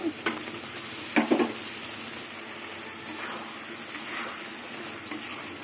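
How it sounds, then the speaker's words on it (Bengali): Fried potatoes added to a pan with turmeric and stirred: a soft, steady sizzle broken by a few clattering spatula strokes and scrapes near the start. "এবার ভাজা আলুগুলো দিয়ে দেবো"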